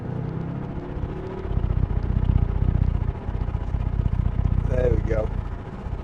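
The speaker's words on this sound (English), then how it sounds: "Really, what a noise from that engine." A 2012 BMW M5 with its 4.4-litre V8 revs hard toward the rev limiter, a deep, loud, steady roar swelling and holding from inside the car while someone speaks briefly over it.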